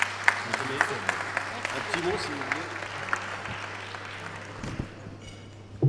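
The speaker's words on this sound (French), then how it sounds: "On applaudit, s'il vous plaît" Audience applause at an awards ceremony, a moderate wash of clapping with a few sharp nearby claps, continuing under a presenter's voice speaking French over a faint steady hum.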